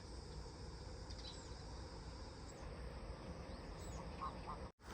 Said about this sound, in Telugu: ఏదో పక్షులు కనబడుతుంటాయి పొలం దగ్గరికి వచ్చినప్పుడు అవి చేసే సౌండ్ వింటా అంటే చాలా బాగుంటుంది